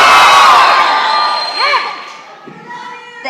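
Wedding guests screaming and cheering together on cue in a large hall, a loud burst of crowd whoops and shouts that gradually fades to scattered voices.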